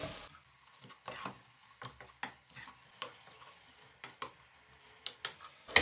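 Ground beef mince of medium fat frying in a pan for cabbage stew, a steady sizzle broken by regular scraping strokes of stirring, close and about once per second.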